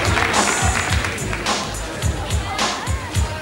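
A TV studio audience applauds as actress Charlotte Valandré is introduced on a French talk show, dense close clapping with a few louder rhythmic bursts and some crowd murmur mixed in.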